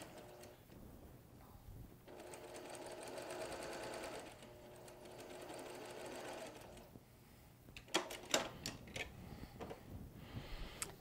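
Sewing machine stitching down a quilt block for a Goose Tracks log cabin design, running in steady bursts of fast rhythmic needle chatter, close and loud, with pauses and a few sharp clicks and clunks near the end.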